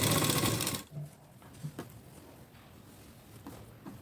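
A sewing machine stitches a plain four-tuck blouse: a loud, close whirring run that stops abruptly after under a second, followed by faint handling knocks and clicks.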